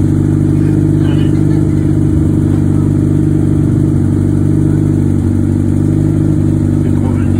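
A 1978 BMW Series 3 with a 3.0-litre inline six-cylinder engine pulls hard, its loud steady engine drone heard from inside the car with a constant low hum throughout.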